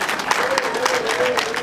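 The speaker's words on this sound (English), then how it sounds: "Let's give a big round of applause." An audience applauds at a cultural event in Ghana, giving a short burst of dense clapping that is loud and continuous for under two seconds. A voice is heard over the applause.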